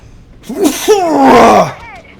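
A single loud, close sneeze with a sharp intake and squeaky, voiced burst, followed by a faint short vocal sound.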